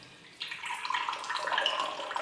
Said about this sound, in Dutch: Dus ik zal hem even schenken.